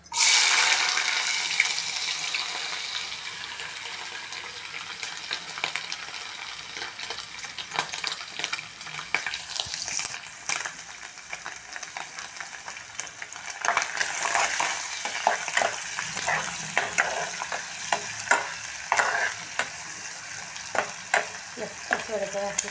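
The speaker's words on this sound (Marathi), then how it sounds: "हे सोडे हे आता आपण तळून घेऊ." Dried prawns (sode) fry in hot oil in a home kitchen pan, giving a steady hiss and sizzle with clattering stirring and scraping strokes that grow busier toward the end; no voices.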